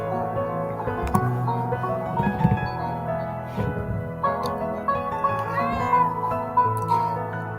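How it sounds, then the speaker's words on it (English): A cat meows several times, fairly close, over a busy, steady background of other sound. "Sorry, that's my cat."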